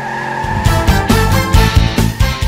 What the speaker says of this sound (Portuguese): agora sobe o giro do motor